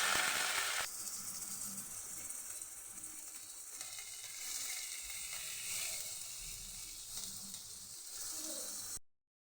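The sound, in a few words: coconut frying in oil with black cumin and dried chilli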